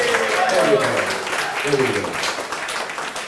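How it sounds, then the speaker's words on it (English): A conference crowd at the Blackmagic Design expo in Kenya applauds with a broad, steady clatter of many hands while a voice talks over the clapping. "Another round of applause for Chris"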